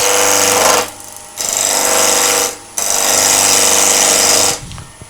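A lathe gouge cuts along the side grain of a spinning wooden bowl in three loud, close bursts of harsh rasping scraping, separated by short pauses where only the lathe's hum remains.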